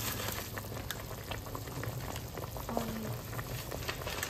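Plain hard scorched rice (nurungji) boiling in a pot, a steady close bubbling and gentle seething that continues unbroken throughout.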